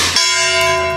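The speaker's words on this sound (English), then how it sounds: "Gong time." A bullet strikes a steel gong target at an outdoor shooting range, giving one sharp clang that rings on with a sustained metallic bell-like tone, loud and alone.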